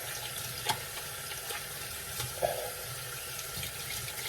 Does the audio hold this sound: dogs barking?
no